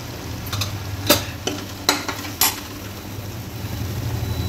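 Green chillies frying in a pan, stirred continuously, a soft steady sizzle with several sharp spatula clinks against the metal, with no talk.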